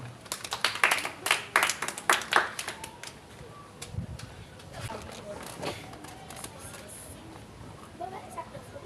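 Audience at a children's show clapping for a singer, a scattered burst of claps over the first few seconds that thins out into murmuring and talk.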